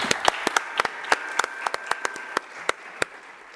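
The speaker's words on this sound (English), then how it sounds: "deserves a round of applause for all the hard work that you've put in" A city council audience applauds water division workers, a light scattering of separate claps from a small crowd that thins out and fades after a few seconds, with a faint steady tone in the room.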